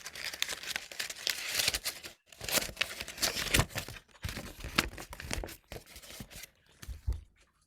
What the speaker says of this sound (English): And then once you've done that, uncrumple it.